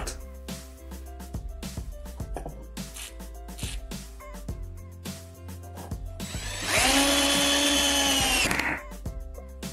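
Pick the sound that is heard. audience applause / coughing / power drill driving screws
power drill driving screws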